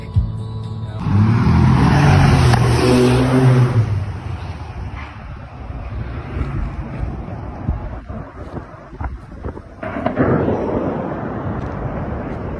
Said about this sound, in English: This plane's landing on the road!